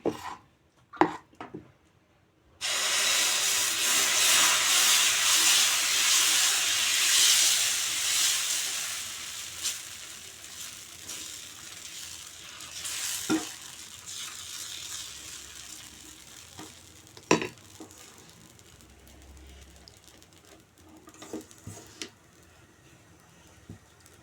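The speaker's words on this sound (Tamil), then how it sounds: "இன்னொரு தோசை ஊற்றுறேன்" Dosa batter poured onto a hot pan gives off a loud, steady hiss and sizzle for several seconds before it settles into a quieter crackle, with a few sharp clicks near the end.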